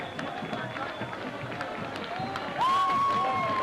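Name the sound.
Steubenville Big Red football crowd cheering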